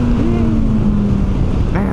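A 2025 Kawasaki Versys 1100 SE's inline-four engine revs up and climbs in pitch, then steadies and rises again. The engine drones loudly under heavy wind buffeting while riding.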